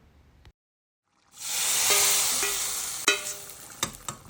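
After a brief silence, a loud burst of sizzling as cumin seeds and Kashmiri red chilies hit hot oil, a bright hiss that gradually eases, with a few crackles and clinks.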